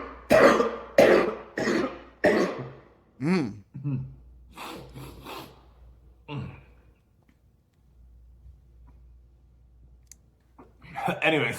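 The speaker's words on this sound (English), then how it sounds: "I just had a massive like cough attack" A harsh coughing fit comes close to the mic as a rapid run of about five loud barking coughs, then a few weaker coughs and throat clearing, a pause of near quiet and a final burst.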